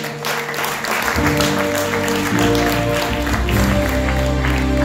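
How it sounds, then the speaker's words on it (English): A crowd at a comedy show breaks into loud applause that swells and holds steady, with some cheering mixed in. "Give a round of applause for the girls, please."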